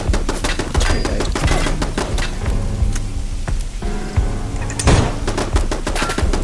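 Gunshots in the video game Fallout: London: a rapid, dense crackle of sharp reports and bursts over a noisy combat backdrop, with a louder blast near the end and no talk.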